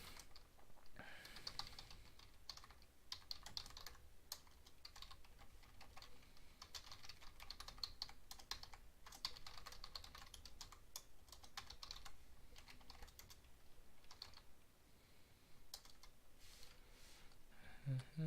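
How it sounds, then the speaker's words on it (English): Computer keyboard keys clatter in quick, irregular bursts of typing, faint and close, continuing for a long stretch with brief pauses. "Okay, I'll just type it,"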